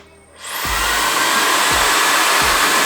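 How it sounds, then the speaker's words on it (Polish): A Bodyland 1500 W hair dryer switches on and blows steadily, a loud, close, even rushing whoosh with a rising whine at start-up and a few low thumps of handling underneath. "A teraz spróbujemy z telefonem, czy ta suszarka go przesunie."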